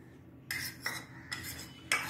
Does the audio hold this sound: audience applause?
no